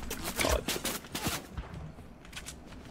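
Gunfire in a fast online shooter match, a few sharp shots and short bursts scattered through the clip over a busy game mix, fairly close and loud, with faint talk around them.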